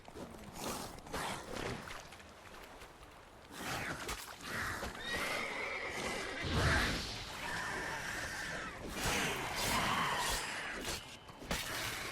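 Horse in The Witcher 3 video game giving a couple of whinnies amid hoof clatter and scattered crashing game sounds, fairly quiet and uneven.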